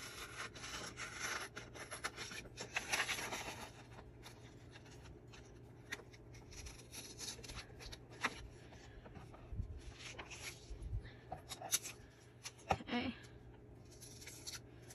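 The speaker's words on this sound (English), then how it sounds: "I'm just cutting off three flinch cards to have those ready" Scissors cut through paper journaling cards, giving faint, repeated rasping snips with some rubbing of paper, close by and without talk.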